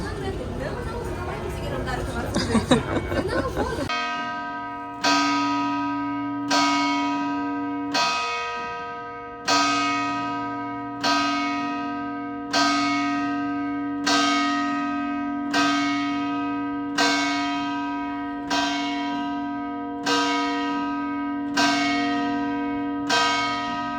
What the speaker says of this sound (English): The bell's going and everything.